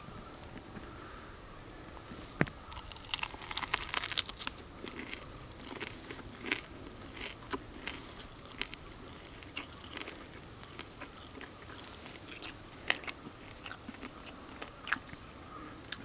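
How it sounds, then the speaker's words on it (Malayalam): Crispy fried chicken being bitten and chewed up close, with scattered crunchy bites and crackles spread over a quiet stretch, no talking. "അപ്പോൾ നമ്മുടെ ചിക്കൻ നമുക്ക് തന്നെ ആദ്യം കഴിച്ച് നോക്കാം"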